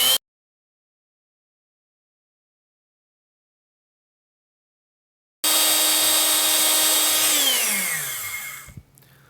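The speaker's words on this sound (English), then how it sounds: "Drill runs great." A restored Milwaukee Model 0370 3/8-inch Hole Shooter electric drill starts abruptly after a long silence and whines steadily at high speed, then winds down with a falling pitch and stops, loud and close.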